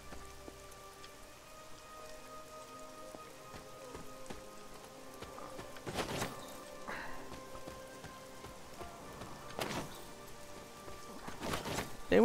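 Rain in the Midnight Suns video game falls steadily on surfaces with a soft, continuous patter and occasional louder drip-like hits, alongside faint tonal game ambience and no speech.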